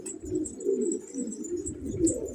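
Pigeons coo softly in a loft, several low, rolling calls overlapping in a steady murmur with faint higher chirps above, close and unobtrusive.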